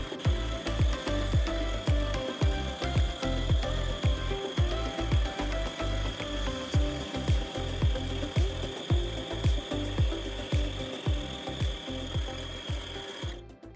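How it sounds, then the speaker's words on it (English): A wooden chess bishop turns on a lathe while it is sanded, giving a loud rhythmic mechanical clatter with a regular ticking pulse over a steady machine hum that ends abruptly. "I like to sand it off and smooth it out and fix all the imperfection."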